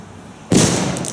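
A homemade firecracker blows up with a sudden loud burst, followed by a sustained crackling, hissing roar as it keeps burning outdoors.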